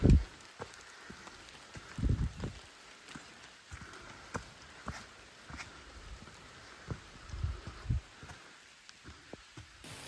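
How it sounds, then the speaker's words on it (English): Hard rain falls during a hike near Dragon's Tooth, a steady soft patter with scattered heavier thumps and footsteps, no voices. "it finally started raining hard enough to warrant pulling this out"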